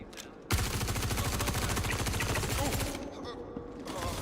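Rapid automatic suppressing gunfire in the Star Citizen video game, a loud sustained burst of fast rhythmic shots lasting a few seconds, then cut off, leaving quieter background noise.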